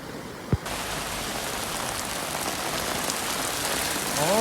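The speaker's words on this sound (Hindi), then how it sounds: "बहुत तेज़ी से बारिश हो रहा है, बहुत तेज़ी से।" Heavy rain pours steadily in Singapore, a dense broadband hiss of drops hitting surfaces, with a brief sharp knock near the start.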